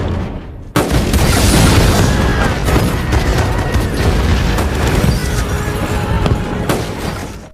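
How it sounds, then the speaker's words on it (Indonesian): A detonated booby trap explodes in an action film as a sudden loud boom, followed by several seconds of sustained roaring blast and crackling debris with scattered gunfire-like bangs, dense and close throughout. "langsung meledakkan perangkap yang telah ia pasang sebelumnya"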